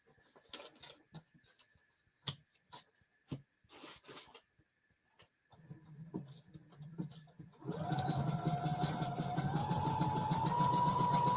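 A sewing machine stitching, first in scattered short clicks and taps, then running continuously with a steady whirring hum for the last few seconds, close with no talk.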